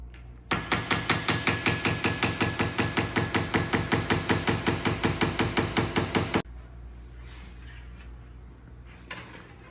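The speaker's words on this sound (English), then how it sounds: "we've taken it to the anvil and we're hitting that center line" A hammer strikes a saw plate on an anvil in a rapid, even series of sharp metallic blows, loud and close, stopping abruptly partway and leaving quieter room tone with one faint knock.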